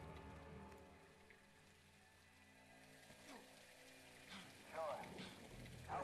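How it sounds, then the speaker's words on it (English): Heavy rain in the video game Call of Duty Modern Warfare 2 makes a steady, faint hiss beneath game music, with voices talking over it partway through. "It's raining fucking hard."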